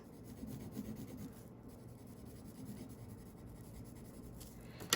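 Coloring a paper house printable red by hand, a quiet, close scratchy rubbing of the coloring tool across the paper in continuous strokes, with no voices.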